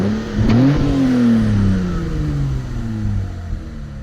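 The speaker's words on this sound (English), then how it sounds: "Oh yes, we love a good engine roar." A Mitsubishi FTO engine in Gran Turismo revs up hard to a loud peak, then winds down in a long, steady falling drone, close and alone with no talk.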